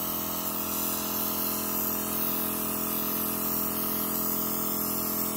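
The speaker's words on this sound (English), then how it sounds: "I've got the airbrush approximately 5 to 6 inches away" An airbrush sprays navy blue paint onto a picture and cookie from about five to six inches away, a constant close hiss of air and paint, even and unbroken, with nobody speaking.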